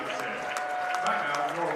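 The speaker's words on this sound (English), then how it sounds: "She'll get her own applause here as she comes out." Crowd applause in a gym at a girls high school basketball game as a player leaves the floor after a free throw, a brief, moderate patter of clapping mixed with talk and general arena noise.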